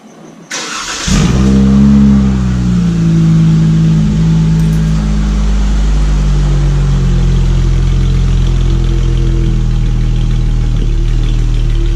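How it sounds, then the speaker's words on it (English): A 2017 Dodge Challenger SXT Plus with an aftermarket Solo Performance exhaust cranks and fires up, then settles into a loud, deep, rumbling idle with a throaty exhaust tone that holds steady. "Give her a little startup and see how she sounds."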